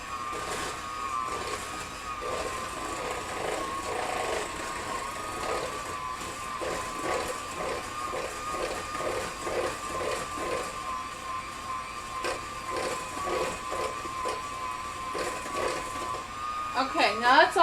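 Egg yolks, sugar and pineapple juice are mixed by an electric mixer or blender in a kitchen, a steady whirring motor with rhythmic pulses over about eighteen seconds, with someone talking.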